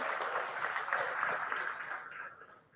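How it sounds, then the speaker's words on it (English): A live audience applauds the panel with steady, fairly faint clapping that fades out over about three seconds. "A round of applause for our panel"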